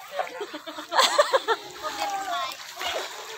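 Water splashes and sloshes in a saltwater swimming pool during a family vacation in the Philippines, with bursts of splashing around the middle under continuous chatter and children's voices.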